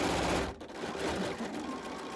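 A sewing machine stitching a curvy letter O shape, a fast steady mechanical whir running close and continuously, with a brief dip in speed early on before resuming.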